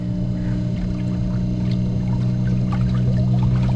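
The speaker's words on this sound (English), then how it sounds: "first test of this electric motor. So I'll put a flat chat" A small boat's electric outboard motor runs at full throttle on its first test, giving a steady, close droning hum with tonal whine and water churning beneath.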